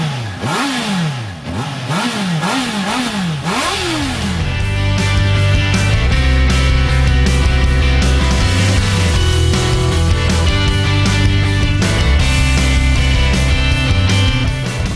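A 2017 Honda CBR 650 F four-cylinder motorcycle accelerates hard and loud, its revs rising and dropping quickly through several short gears before settling into a sustained, high-pitched engine wail.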